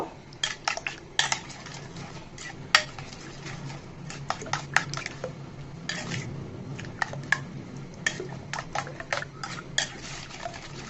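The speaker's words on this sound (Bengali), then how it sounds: "সামান্য পরিমাণে লবণ দিয়ে ডিমটাকে ভালো করে ফেটিয়ে নিতে হবে" Egg beaten with salt, onion and chilli in a bowl, with steady clinking and tapping of a utensil against the bowl, rapid irregular clicks over a faint background hum.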